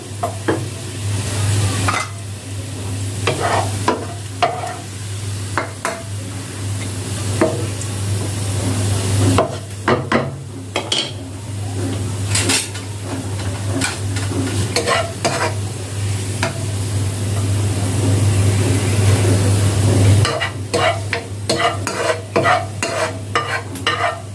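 Onions frying in a little oil for hilsa pulao, a loud continuous sizzle with repeated scraping strokes of a spatula stirring the pan, no talking.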